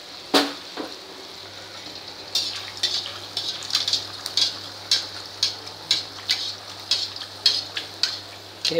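Sweet bhaji (gulgule) batter fries in hot oil over low heat, giving a steady bubbling sizzle marked by a regular series of sharp clicks and taps from a utensil at the pan.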